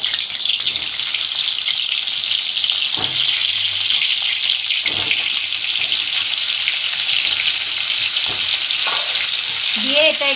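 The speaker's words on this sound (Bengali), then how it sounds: "কড়াতে তেল দিয়ে দিলাম আমি সর্ষের তেলে রান্না করছি অন্যরা চাইলে সাদা তেলেও রান্না করতে পারেন এবার পটলগুলো দিয়ে দেবো" Pointed gourd pieces fry in mustard oil in a wok, giving a steady loud sizzle throughout with a few soft clinks of stirring.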